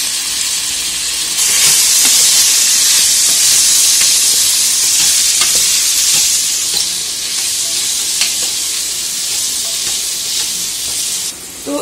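Spices frying in a hot pan: green chili, capsicum, turmeric, cumin and coriander powder with red chili powder, giving a loud, steady, close sizzle and hiss with occasional stirring scrapes, no voices.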